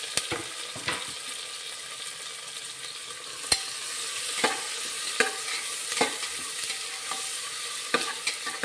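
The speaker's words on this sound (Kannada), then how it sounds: "ಟೊಮೆಟೊ, ಈರುಳ್ಳಿ, ಹಸಿಮೆಣಸಿನ್ಕಾಯಿನ ಎಣ್ಣೆಯಲ್ಲಿ ಚೆನ್ನಾಗಿ ಬಾಡಿಸಬೇಕು" Tomato, onion and green chilli fry in oil in a pan, a steady sizzle broken by repeated scraping strokes of a stirring spoon at irregular intervals, close and fairly loud, with no voices.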